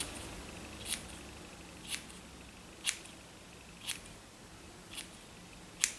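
Scissors snip through hair in six crisp, evenly spaced cuts about a second apart, close and quiet against a soft background.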